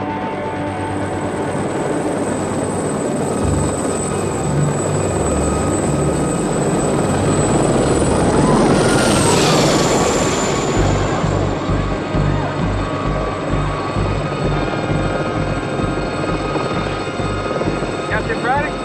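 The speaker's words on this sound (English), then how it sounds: "here she comes, the most awesome helicopter ever built" The Blue Thunder helicopter approaches with a loud, continuous rotor and turbine roar that swells as it passes close, then holds steady; a commentator is heard over the engine noise.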